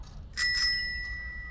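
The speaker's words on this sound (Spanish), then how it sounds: "Mira qué timbre tan divertido conseguí." A novelty bicycle bell rings twice in quick succession, bright and close, its metallic tone lingering and fading over a low background hum.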